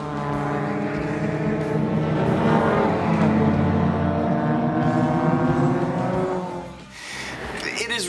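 A Mercedes 240D with a four-cylinder diesel engine driven flat out, its steady, loud droning engine note holding constant for several seconds before briefly dipping, with road and wind noise throughout.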